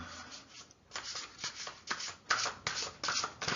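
Oracle cards from the Soul Helper Oracle deck being shuffled by hand, a run of soft riffling flicks and rubbing slides in an uneven rhythm, close and fairly quiet with no talking.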